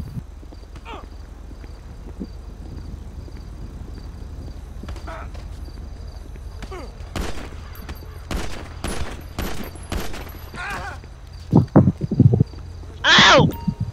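An NPC fires a gun in a roleplay city video game, a series of sharp gunshots in the latter half, with horse hooves clopping and people talking at times.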